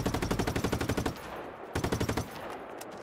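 Rapid machine-gun fire in Just Cause 3 aimed at a billboard, a fast rhythmic string of loud shots, a brief lull, then a second burst, with no voices over it.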